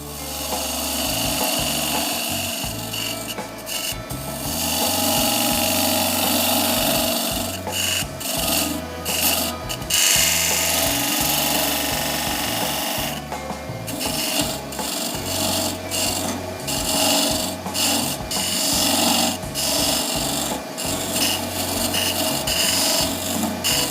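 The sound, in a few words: lathe tool cutting galaxy resin and dyed burl hybrid blank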